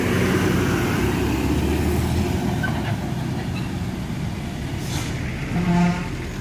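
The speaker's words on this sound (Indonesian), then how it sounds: "Lihat Hino tangki masih belum mampu menanjak dia." A Hino tanker truck labors uphill, its engine droning in a heavy, continuous low rumble that swells slightly near the end, with traffic noise around and no talk.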